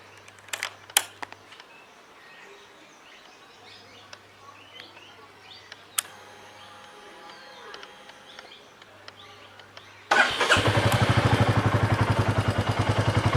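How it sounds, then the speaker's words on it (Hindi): A Royal Enfield Classic 350 Reborn with its stock silencer starts late, after a quiet stretch with faint birdsong and clicks. Its exhaust then throbs loud and close in a steady, even thump to the end. "अगर जिसका एग्जॉस्ट नोट मैं आप लोगों को सुनाऊँ तो वो भी सुन सकते हो भाई।"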